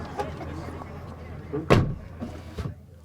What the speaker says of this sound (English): Close the door so I get the feeling, okay?